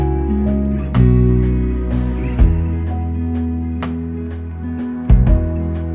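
Mellow, chill guitar track played on an Enya NEXG2 smart guitar, with sustained layered chords, a steady low bass and regular percussive hits recurring throughout, loud and close without any voice.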